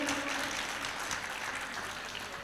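Applause from a devotional gathering at a Jain sermon, a steady wash of clapping hands held at an even level from start to finish, with no voices rising above it.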